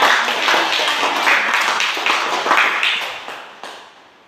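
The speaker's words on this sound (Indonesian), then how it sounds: "mari kita tepuk tangan" Students in a classroom clap their hands, a close burst of clapping that starts strong, pulses with a few sharper claps and gradually fades out over about four seconds.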